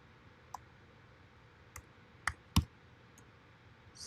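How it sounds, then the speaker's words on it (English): A computer keyboard gives a few sparse, separate clicks close by over a quiet room hiss, one sharp key press standing out louder than the rest. "typing the YouTube address by hand"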